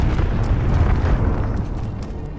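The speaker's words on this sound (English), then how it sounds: "Allied cruise missile on the way." A cruise missile killstreak strike in Call of Duty Modern Warfare lands as a heavy, rolling explosion: a deep, continuous boom and rumble that fills the whole moment and slowly tapers off.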